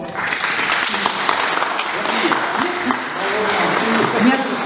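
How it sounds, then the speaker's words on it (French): An audience at a conference on Rhône water jousting and the Serrières rescuers applauds Claudius loudly and steadily, with voices talking over the clapping throughout. "je pense qu'on peut l'applaudir très fort"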